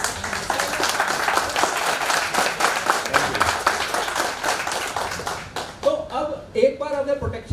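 Audience clapping at a talk on income protection, a fairly dense patter of hands for several seconds that thins out near the end as a voice starts speaking.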